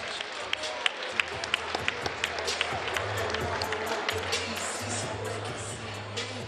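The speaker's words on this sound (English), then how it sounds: "let's give these outstanding boxers a round of applause" Audience applause for boxers at a recreation-center boxing event: steady, sustained clapping from a crowd, with sharper individual claps and a voice talking over it.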